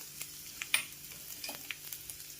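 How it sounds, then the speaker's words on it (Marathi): Small potatoes are tossed with spices, salt and chaat masala in a bowl, giving faint, scattered scrapes and soft clicks of stirring, quiet and close, with no talking. "व्यवस्थित छान मिक्स करून घ्यायचे मसाले आणि बटाटे"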